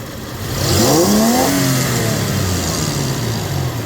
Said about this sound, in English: If I go really fast, wide open throttle